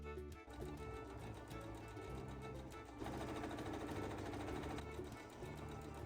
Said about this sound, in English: Then I sew the front and back pieces of the collar together.